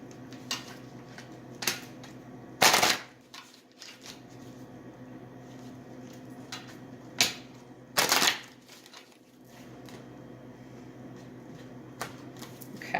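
Angel Answers oracle cards are shuffled and drawn close by, with two loud riffling bursts of shuffling set among softer taps and slides of cards, and no speech.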